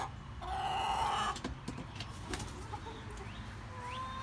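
Chicken clucking near a backyard coop on a rainy day, a few short clucks and a brief crowing squawk amid outdoor ambience and light rustling, fairly faint.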